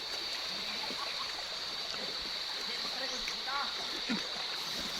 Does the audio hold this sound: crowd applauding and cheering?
no